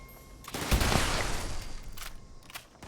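Gunfire in the video game Fallout 76: a rapid, rumbling burst of shots swells and then fades over a couple of seconds, heard at a moderate level with no talking.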